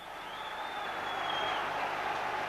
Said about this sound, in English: Billy McNeil was alongside Jock Brown in a capacity crowd at Celtic Park.